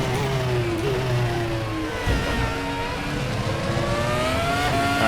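An FRX-17 formula race car in RaceRoom, driven at Hockenheim, accelerates hard out of a corner: a close, continuous engine scream that climbs steadily in pitch through the gears with no voices.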